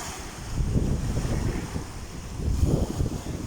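Wind sweeps across the seaside shore in low, rumbling gusts that swell and ease against the microphone, moderately loud with no clear voices.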